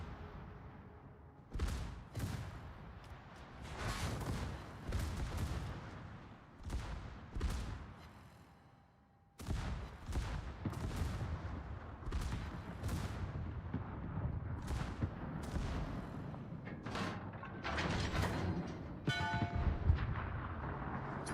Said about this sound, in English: Shoot your guns, you idiot.